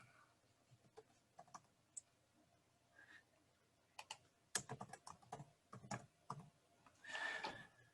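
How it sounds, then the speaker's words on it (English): Someone typing on a computer keyboard while entering a real-estate prospect's details, scattered quiet key clicks and short bursts of tapping, nearby and alone. "I'm going to go ahead and type in here"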